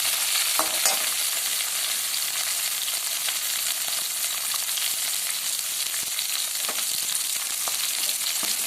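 Curry leaves and sliced large onion fry steadily in hot oil, giving a continuous close, loud sizzle with faint stirring clicks throughout and no talking.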